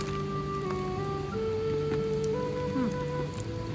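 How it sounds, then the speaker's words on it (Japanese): Rain patters steadily at a riverside campsite under a constant rushing river flow, with faint thin tonal chirps layered over the wet hiss and no one talking. "雨の音とさ、あの川の音とさ"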